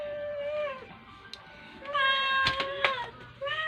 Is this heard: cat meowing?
yes